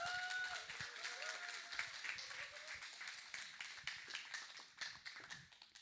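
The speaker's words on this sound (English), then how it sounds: "I would like everyone to give a warm applaud to Rhonda Weber" An audience claps to welcome speaker Rhonda Webber, a quiet, fairly distant patter of separate hand claps with a faint tone and some soft background murmur, fading slightly toward the end.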